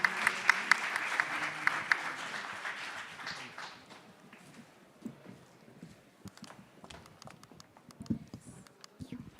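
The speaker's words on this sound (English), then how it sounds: "have a big round of applause?" Audience applause after a youth pitch presentation: a loud burst of clapping that thins out after a few seconds into scattered claps and light crowd noise.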